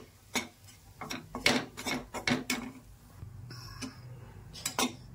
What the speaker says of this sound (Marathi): त्याला चांगलं हलवून घेते